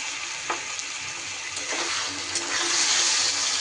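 Ground spice paste hits hot oil in a pan for chapila fish curry, giving a loud, steady sizzle and hiss that swells toward the end, with a few faint stirring scrapes.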